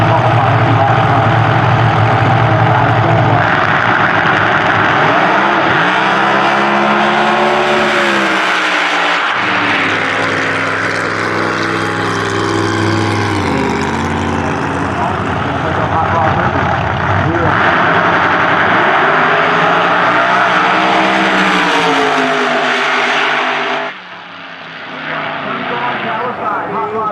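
A pair of funny cars roar down the drag strip at Eddyville Raceway Park, a loud sustained engine howl rising and falling in pitch as they pass, with a commentator talking over it throughout.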